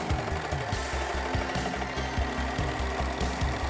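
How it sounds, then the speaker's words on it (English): A serger overlocker finishes fabric seams for a cosplay costume, running in a loud, fast, steady mechanical chatter with a rapid rhythmic knock, close up and uninterrupted, no talking. "Then it was time to serge every single seam"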